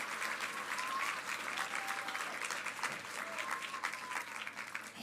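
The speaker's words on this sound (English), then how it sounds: "Give them a big round of applause." An audience at a children's book awards ceremony in Ireland gives sustained applause. The clapping is dense, even and continuous, heard from a distance in a large room, with faint crowd noise mixed in.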